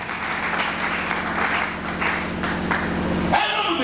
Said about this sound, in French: Acclame un peu pour le Seigneur